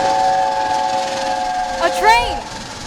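Steam whistle from an arriving train sounds in the distance, sustained steady tones with a short rising wail near the end, over a faint rumbling background.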